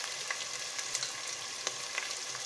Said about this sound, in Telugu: అల్లం వెల్లుల్లి పేస్ట్, కొంచెం పసుపు వేసి అల్లం వెల్లుల్లి మధ్య బాగా వేగేవరకు వేపించుకోవాలి